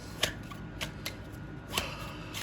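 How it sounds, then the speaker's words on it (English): Tarot cards being shuffled by hand in a quiet room: a few soft, papery riffles and slaps, spaced irregularly and fairly faint, with no talking. "I don't usually start shuffling during clarifications at the beginning."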